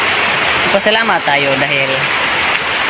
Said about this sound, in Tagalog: umuulan na, hindi na umiinit